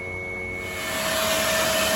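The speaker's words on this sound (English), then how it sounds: "This is the truck with both fans on, going full blast." Both cooling fans of a Hino 195 electric truck fitted with a SEAdrive 120a roar loudly at full blast, a dense steady whoosh with a high whine that swells louder partway through.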